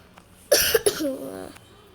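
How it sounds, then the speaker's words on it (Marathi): A single sharp cough close to the mic, with a quick second hack right after, then a short voiced exhale trailing off. "आज थोडा खोकला येतोय"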